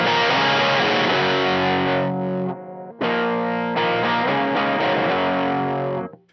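Electric guitar through a Glaive fuzz pedal set to a medium fuzz, loud and thick distorted chords ringing, a brief drop-out near the middle, then sustained fuzzy strumming that cuts off at the end.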